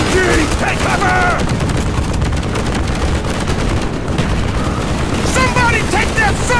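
Sustained, dense automatic gunfire from a machine-gun nest in Call of Duty: Black Ops, part of a village battle, keeps up a loud continuous crackle for the whole stretch while soldiers shout over it.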